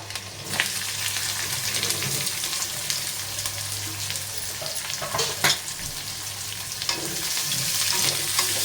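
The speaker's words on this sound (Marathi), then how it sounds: "कांदा छान असा परतून घेऊया।" Onion with garlic and curry leaves sautés in hot oil for a Maharashtrian ridge gourd bhaji, giving a continuous close sizzle with occasional sharper crackles and light stirring scrapes; no one speaks.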